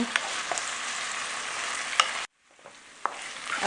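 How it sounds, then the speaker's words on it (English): Minced buffalo meat fries in a pan with a steady crackling sizzle and occasional stirring clacks, briefly dropping away before the frying noise returns quieter with another sharp scrape. "we have to fry it until it's dry okay you can see now it's still red"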